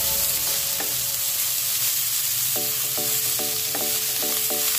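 Water spinach (kangkong) stems stir-fried in a pan, a loud continuous sizzle with a run of rhythmic metallic clinks from a utensil striking the pan in the second half.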